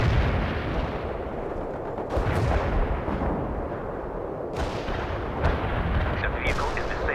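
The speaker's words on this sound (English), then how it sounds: "Launching a barrage." Artillery barrage in World in Conflict, a heavy rolling rumble broken by several sharp, loud blasts and booms spread across the clip, with faint radio-style voices under the explosions.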